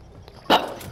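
A dog in the Call of Duty video game gives a single short, sharp bark about midway, standing out briefly over quiet game background noise.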